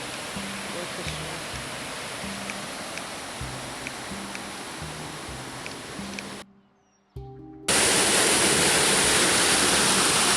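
River water rushing in the Atlantic Rainforest of Brazil, a steady broad roar with a rhythmic low tone pattern over it, briefly dropping to near silence before returning louder and fuller.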